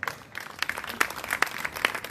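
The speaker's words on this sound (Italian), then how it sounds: "Applausi per loro." An audience at a Sicilian dialect song event applauds the authors as they come on stage. The clapping is moderate and scattered, with a few sharper, louder claps standing out, heard from fairly close.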